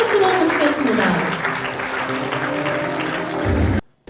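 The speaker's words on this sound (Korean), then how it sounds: "큰 박수로 모시겠습니다." Audience applause at the Michelin Guide Seoul and Busan 2025 announcement ceremony as a chef is welcomed on stage, dense clapping that swells near the end before cutting off abruptly, with background music underneath.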